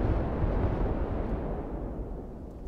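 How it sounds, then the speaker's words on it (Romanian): A large explosion in the survival game Rust, a deep, loud rumbling boom that fills the low end and slowly fades over about three seconds, with no voices over it. "aia a fost o explozie destul de mare"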